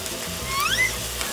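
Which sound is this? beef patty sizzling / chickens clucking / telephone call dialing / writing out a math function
beef patty sizzling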